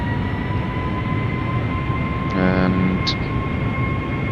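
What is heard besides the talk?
Boeing 757 jet engines powering up, flight simulator video game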